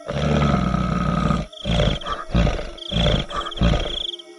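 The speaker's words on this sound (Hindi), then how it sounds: "तभी वह बंदर गुर्राने लगता है।" A monkey growls in deep, rough roaring bursts, loud and close, several long pulses with short breaks between them.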